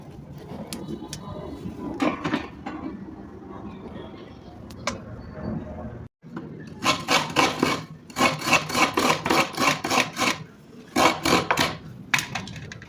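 Coconut being scraped on a grater in a home kitchen, quieter scraping at first, then a run of loud rhythmic rasping strokes repeated in quick bursts, close and without talk.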